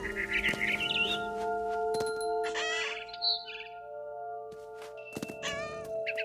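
A cat meows several times in the video game What Remains of Edith Finch, with clear, close calls spread across the clip over a steady game background hum and faint bird-like chirps.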